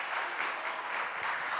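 A church congregation breaks into dense, steady applause, many hands clapping together at moderate volume for a brief stretch.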